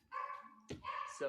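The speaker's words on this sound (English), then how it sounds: "Thought that was my dog for a second." A dog barks and yelps in short bursts close by, sounding over someone talking during a live stock market trading stream.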